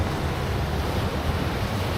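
The river rushes through the narrow rocky Strid gorge in the Yorkshire Dales as a loud, steady roar of churning water with wind noise and no pauses.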